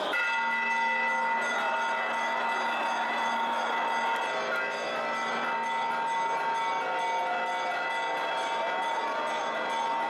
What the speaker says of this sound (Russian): Сверкают молнии, звонят колокола.